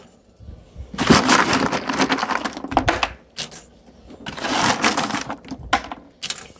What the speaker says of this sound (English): you just put the dry ice in there, sitting in that tray